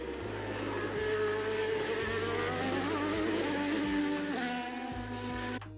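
A high-revving Formula 1 racing engine screaming close by, its pitch climbing through gears with brief dips at each shift, loud and continuous.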